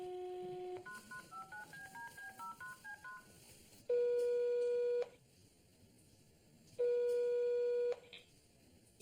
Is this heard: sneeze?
no